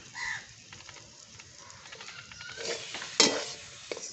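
Prawns with chili powder frying in a little oil, giving a faint crackle and soft scraping of a spatula in the pan, with a louder clatter near the end, close and without talk.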